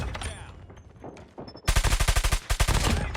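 Type 19 assault rifle firing in Call of Duty Mobile, a rapid burst of about a dozen sharp, loud shots after a quieter stretch of game noise, then a second short burst.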